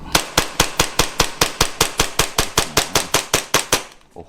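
An ARMY R612 gas BB pistol fires about eighteen quick, evenly spaced sharp cracks, roughly four per second, loud and close, ending with a softer click.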